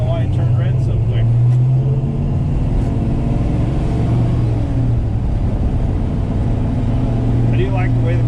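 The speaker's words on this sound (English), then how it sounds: "I do like the way the car drives." A 1969 Dodge Coronet 500 with 373 gears and a 4-speed manual, on big rear tires, drives along with a steady low engine drone and road rumble, a voice talking over it.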